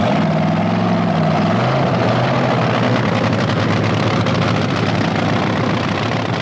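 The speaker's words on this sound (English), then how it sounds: "The engine in Jeb Allen's Dragster comes to life" Jeb Allen's top fuel dragster at the 1980 NHRA Cajun Nationals final round fires up into a loud, continuous, rough engine roar that swells in intensity and stays dense and close throughout.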